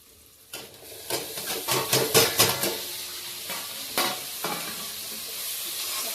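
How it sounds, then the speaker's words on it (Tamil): Tomatoes frying in a pan for chicken biryani with chicken 65, a loud close sizzle with bursts of spatula stirring and clinks against the metal pan, no talking. "இந்த மாதிரி இதுலேயே தக்காளியும் போட்டுப்போம்"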